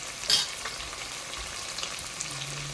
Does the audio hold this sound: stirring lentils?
yes